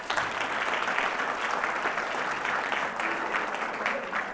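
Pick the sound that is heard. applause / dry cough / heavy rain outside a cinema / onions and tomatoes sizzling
applause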